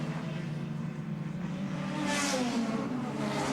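Touring race cars lapping Lakeside circuit in 1989, a sustained engine drone rising in pitch as a car accelerates, growing louder toward the end, heard from a distance.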